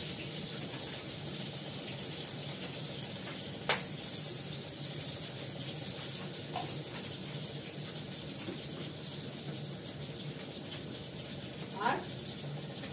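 Black cumin seeds sizzle in hot oil for tempering, in a pan where tengra fish has been fried. A steady, moderate hiss runs throughout, broken by a few brief voice sounds.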